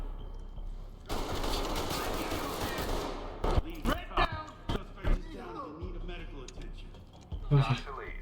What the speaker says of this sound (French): On prend des tirs! Couvrez-moi, couvrez-moi!